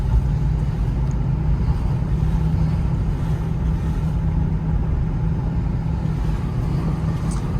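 Steady low rumble of a Range Rover Evoque driving on the road, heard from inside the cabin as a continuous loud engine and road drone with no talking.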